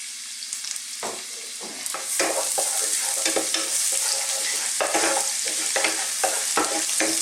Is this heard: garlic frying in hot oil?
yes